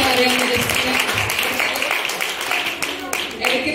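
Audience applause at a church anniversary program for Sunday school and youth groups in Mallappally, a steady, continuous wash of clapping through the whole stretch with voices mixed in.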